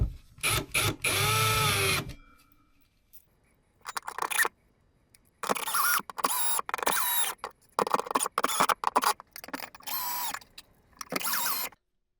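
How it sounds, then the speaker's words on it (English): A cordless drill driver on a low clutch setting drives screws through a French cleat into drywall in a series of short, close bursts separated by pauses, its motor whirring up and cutting off repeatedly. "I have the clutch set on the drill driver to a low setting so I don't over tighten the screws."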